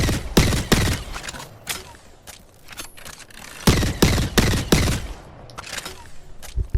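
Nemesis gun firing in Apex Legends, loud close bursts of rapid shots in several groups separated by short pauses, with faint mechanical clicks between bursts.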